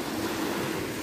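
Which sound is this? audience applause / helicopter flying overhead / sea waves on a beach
sea waves on a beach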